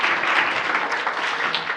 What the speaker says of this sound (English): give him an extra round of applause because that was kind of awesome.